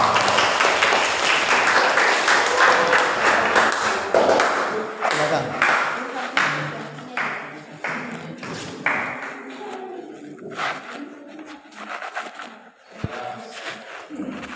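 Students in a classroom applaud a student group, with brisk clapping for several seconds that thins to scattered claps and fades while voices talk.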